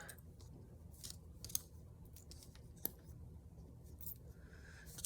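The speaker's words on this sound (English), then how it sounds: "I'm gonna cut another one" Scissors cut paper for a junk journal, making faint, quiet snips and crisp slicing sounds spread over several seconds. A steady low background hum runs underneath.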